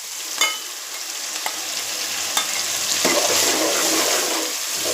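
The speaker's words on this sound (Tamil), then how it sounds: "வெங்காயம் இதெல்லாம் போட்டு இப்போ இதில் போட்டு வதக்குவோம்" Onions and three tomatoes sauté and sizzle in a hot pan, a steady crackling hiss broken by a few sharp scraping stirs, close and continuous with no talking.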